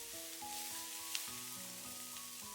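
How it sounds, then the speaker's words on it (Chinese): Scallion, ginger, garlic and bird's eye chili stir-frying over low heat in leftover oil, giving a steady soft sizzle with faint spatula scrapes, close and continuous with no talking. "把切好的蔥薑蒜末、小米椒倒進來，小火炒出香味"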